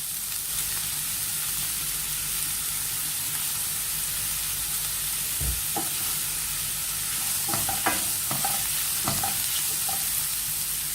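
Onions sautéing with a pinch of salt in a pan for a Spanish omelette, a steady close sizzle and hiss throughout, broken by a few scraping stirs of a spoon toward the end, with no talking.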